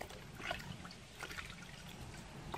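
Water trickles and splashes softly while fish caught from a river are scrubbed clean of scales, a faint close dribbling with small bursts of sloshing, no voices.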